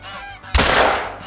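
Geese honk in a hunting video game, a sharp burst of harsh, loud calls that trails off over about a second, with a faint softer sound before it and no talk.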